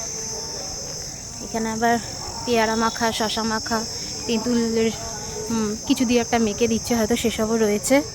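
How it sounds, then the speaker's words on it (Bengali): Crickets chirp at the Sonajhuri fair in a steady, shrill, high drone that runs the whole time, with a person talking over it in the foreground. "কি সুন্দর ঝিঝি পোকা ডাকছে"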